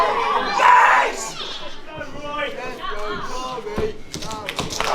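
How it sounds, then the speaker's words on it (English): A lively crowd of young fans at a pro wrestling show cheers and shouts continuously, excited voices overlapping with bursts of yelling and a few sharp claps or stomps near the end. "You hear the reckless old youths trying to fire everybody up for Tommy Kyle."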